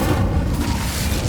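An Incendio fire spell is cast in Hogwarts Legacy, a loud, brief rumbling whoosh of flame with a deep, booming low end filling the moment.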